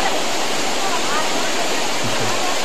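Forceful water rushing at Bhairavakona waterfall, a steady loud broadband roar of falling and flowing water close by, continuous throughout with no clear pauses.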